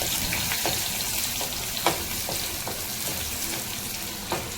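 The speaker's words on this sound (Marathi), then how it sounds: "तेलावरती लसूण टाकलाय आणि टाकलं ते मिरची." Garlic and chilli sizzle in hot oil as a tempering for a tarpon fish curry: a steady, loud, close frying hiss with a few brief crackles and pops, and no talking.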